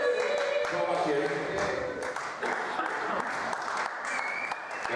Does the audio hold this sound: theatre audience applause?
yes